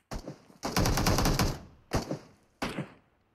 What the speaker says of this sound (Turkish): Bot beni vuruyor lan. Şu bot beni vuruyor.